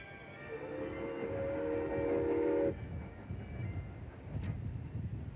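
The Flying Scotsman steam locomotive sounds a steady, sustained whistle over the rumble of rolling cars as it arrives at a station in Broken Hill, Australia, then the whistle cuts off and the wheels keep clattering.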